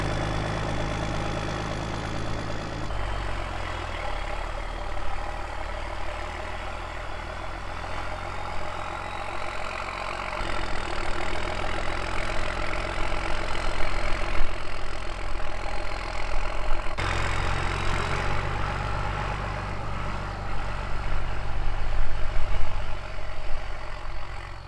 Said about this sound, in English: Let's drive around the back into some deeper drifts and we'll get stuck there.